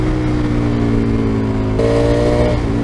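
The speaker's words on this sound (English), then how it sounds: "Tom, you're making that tracer look like it's got 150 horsepower." A Yamaha Tracer motorcycle engine revs hard on the road, loud and close, its pitch climbing steadily and then shifting as it changes gear, under heavy wind rush.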